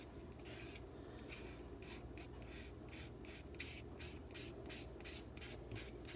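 800-grit sandpaper is rubbed gently and evenly over a knife's liner lock, giving a soft, rhythmic scratching of repeated strokes, close and quiet with no talking.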